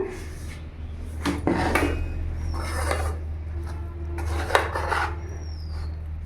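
A thick rice flour mixture for pitha is stirred and mashed in a pot off the heat, making several uneven scraping and knocking strokes of a utensil against the pot, close and moderately loud, with no speech.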